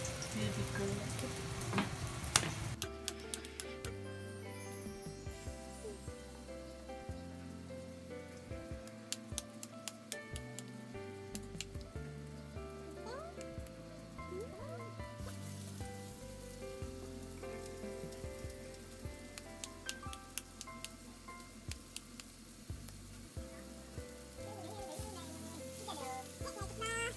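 Hamburg steak patties frying in a pan, a steady crackling sizzle heard close up throughout, with background music and occasional voices over it.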